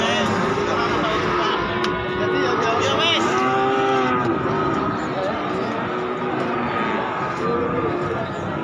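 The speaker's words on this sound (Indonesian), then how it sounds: "soalnya sangat rapat sekali sebelah sini sapi-sapinya" Cattle at the crowded Wirosari cattle market in Grobogan, Central Java, low a few times amid a busy din of traders talking and general market bustle, with one long moo standing out midway.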